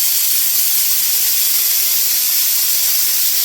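Steady broadband hiss of steam from a pot where banana flower is boiling with a little salt, constant and fairly loud throughout with no breaks.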